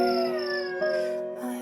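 A wolf gives a long, sustained howl at night, a single steady drawn-out tone that slowly bends in pitch, close and fairly loud with no talking.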